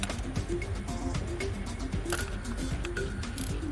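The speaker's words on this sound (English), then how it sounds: "So now we're gonna take these 8mm loose, but we're gonna break the bolts." Wrench clicks and metallic ticks as 8mm fuel pump bolts are cracked loose on a 2015 Ford Fusion EcoBoost high-pressure fuel pump, quiet, close, irregular small clicks with a few sharper snaps.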